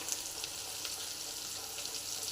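Small onions fry in oil in a pan, a soft, even sizzle with faint popping crackles, steady and fairly quiet with no voices.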